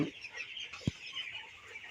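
Broiler chickens in a poultry shed give soft, low clucks and murmurs, with one short, louder cluck standing out briefly against a steady background hum.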